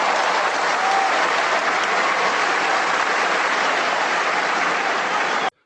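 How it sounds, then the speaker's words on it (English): Sustained applause during a live call-in broadcast, a steady dense wash of clapping holding at one level for about five seconds before cutting off abruptly. "This is a second applause for yours."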